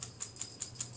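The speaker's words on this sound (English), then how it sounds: "That's my dog. She has a scratch, I guess." Quiet, rhythmic metallic clinks repeat about five times a second, like collar tags jingling as a dog scratches, faint and close.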